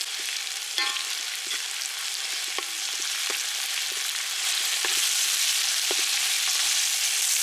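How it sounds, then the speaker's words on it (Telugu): Ginger garlic paste fries in hot oil for a big village-style batch of prawn curry, giving a steady, dense sizzle broken by occasional light taps of a stirring spoon. "ఇప్పుడు అల్లం వెల్లుల్లి పేస్ట్ చేద్దాం. ఒక 5 చెంచాలు వేసానండి."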